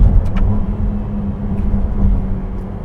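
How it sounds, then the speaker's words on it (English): A steady, deep engine drone from a Ferrari 296 GTB hybrid sports car, loud and close, with a low hum holding throughout and no talking. "This car still sounds like a full-blown Ferrari."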